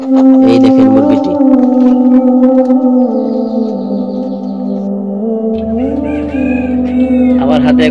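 Hill breed country chickens on a farm, with a close, loud rooster crow drawn out over several seconds and a few clucks around it, while a person talks nearby.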